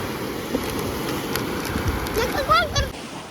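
Sea waves wash onto a beach in Spain as a steady, broad rushing hiss with gentle swells, with faint voices in the background.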